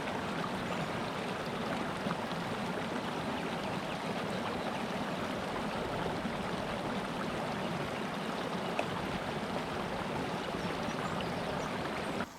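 Stream water splashes and rushes steadily during a morning wash at a wild camp in the Peak District woodlands, a close, continuous broadband wash with no voices.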